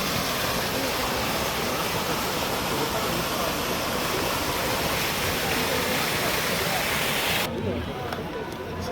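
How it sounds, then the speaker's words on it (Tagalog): Water rushes steadily at the Sacré-Coeur basilica in Paris, a loud, continuous broadband splash like a fountain or cascade, with crowd chatter mixed in before it cuts off sharply near the end. "Ito yung tubig nila rito."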